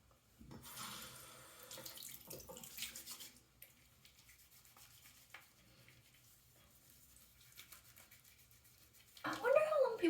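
Water running from a bathroom tap while a face is washed, a soft hiss under intermittent splashing and rubbing, with louder bursts of splashing near the start and the end.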